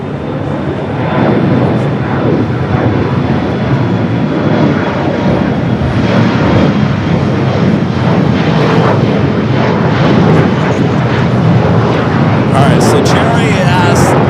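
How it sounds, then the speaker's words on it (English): A British Airways Boeing 777-300ER at LAX airport gives off a sustained, loud jet engine roar that holds steady from start to finish. "Followed by British Airways 777 300ER, that is flight 281"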